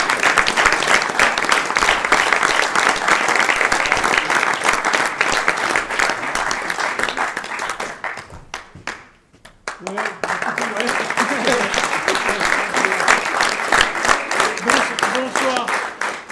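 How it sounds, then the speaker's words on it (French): A theatre audience breaks into long, dense applause after an amateur troupe's play, dipping briefly midway before swelling again, with voices talking beneath the clapping. "Et on vous applaudit."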